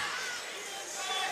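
Packed crowd at a boxing match in the Philadelphia National Guard Armory, a dense wash of chatter and cheering heard briefly under a commentator's voice.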